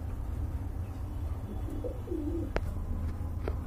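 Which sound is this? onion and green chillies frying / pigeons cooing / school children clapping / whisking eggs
pigeons cooing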